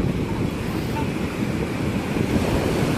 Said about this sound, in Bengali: সকালে জোয়ারের ঢেউ অনেক বেশি রয়েছে।